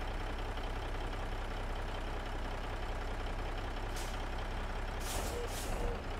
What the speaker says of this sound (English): I do like the air brake sound.